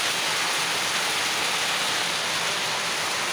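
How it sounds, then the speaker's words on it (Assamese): Rain falling outside, a steady dense hiss of drops with no break, fairly loud and even throughout, heard from indoors. "বাহিৰত বৰষুণ আহি আছে"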